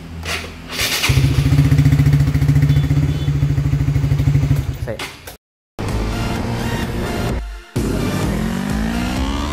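Starter motor on a Honda 150cc motorcycle cranks loudly for several seconds with a rapid, even churning rhythm, cuts out in a brief silence, then the engine sound returns and runs on, close up.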